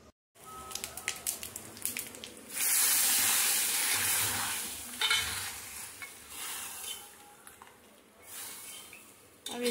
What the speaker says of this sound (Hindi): अब मैं इसको सिर्फ जीरे का शौंक दूंगी